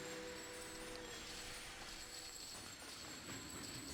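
A train runs along its track in the railway-building game Sid Meier's Railroads, giving a faint, steady rumbling rail noise with a thin hum, continuous and quiet, no talking.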